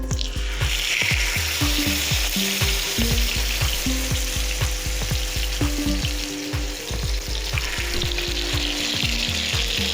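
Pieces of fish fry in hot oil on a flat tawa, a loud, dense sizzle with rapid crackling pops spattering continuously up close, no voices.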